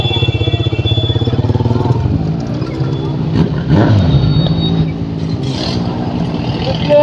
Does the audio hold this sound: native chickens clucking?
no